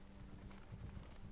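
Horse hooves clip-clop in the video game Legacy of Lordaeron, a quiet steady trot of hoofbeats over a low background hum.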